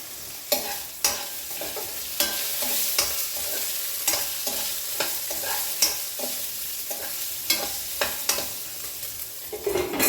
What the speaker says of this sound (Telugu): ఇంకొక నిమిషం అయితే వేగిపోతాయి ఇవి ఇదిగోండి మిరపకాయలు వేగిపోయాయి